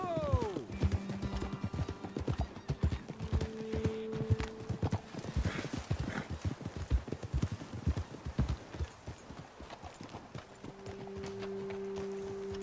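Steady clip-clop of horse hooves trotting in the video game Red Dead Redemption 2, with a horse whinnying briefly near the start and sustained tonal hums around it; faint background activity throughout.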